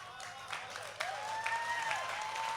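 Brief audience applause at a Hindi comedy poetry stage show, a bright burst of clapping that swells after a second while a voice with a rising, sung tone carries over it.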